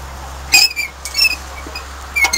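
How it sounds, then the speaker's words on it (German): A treasure-hunter figure in Semmering, Austria gives a few short, high-pitched squeaks from its creaking left elbow joint, sharp and close against a low steady hum. "Es dürfte das linke Ellbogengelenk sein, was da quietscht."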